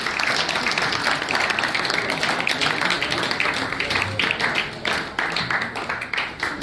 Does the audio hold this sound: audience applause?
yes